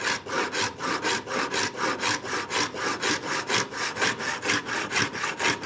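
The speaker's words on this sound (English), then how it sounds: "a very fine-toothed modeler's saw" A very fine-toothed modeler's saw cuts a shallow kerf into a wooden mitre for a raised faceted star, with steady back-and-forth strokes in an even rhythm, close and clear with no talk.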